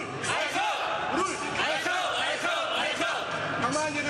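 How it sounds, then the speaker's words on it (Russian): Sports fans gathered at Sheremetyevo airport in Moscow to greet Russian Olympic wrestlers bound for Rio, a dense crowd clamour of cheering, shouting and chatter that fills the whole stretch without a break. "Спортсменов встречали болельщики."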